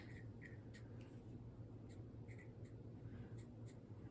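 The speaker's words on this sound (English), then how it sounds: "So on here, I'm going to write sliced dills" A pen writes "sliced dills" on a label for a jar of fermented sliced dill pickles, quiet scratchy strokes in short bursts over a low steady hum.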